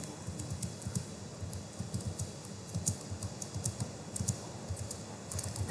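Computer keyboard typed on at close range while writing a Python print statement, a quick irregular patter of key clicks in short bursts with brief pauses, no voices.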